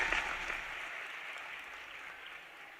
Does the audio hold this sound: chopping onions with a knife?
no